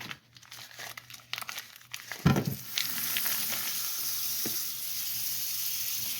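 A stick of butter drops into a hot pan with leftover pork juice, crinkling and then settling into a steady, close sizzle that hisses on without pause.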